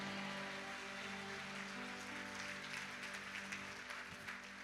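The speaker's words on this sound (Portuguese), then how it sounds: "Aplaude e dê um glória a Deus, meu irmão." Congregation applauding in a church, a steady wash of many hands clapping at moderate level, with a low sustained organ or keyboard tone underneath throughout.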